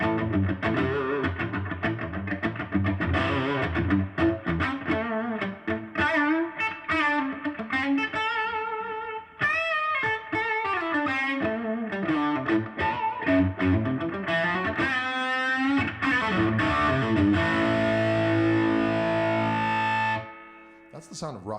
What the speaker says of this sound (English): That's the sound of rock music, ladies and gentlemen.